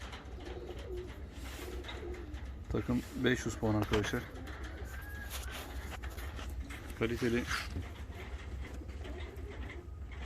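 Fancy and costume show pigeons coo in short rolling bursts, two clear clusters a few seconds apart, under someone talking over steady low background noise.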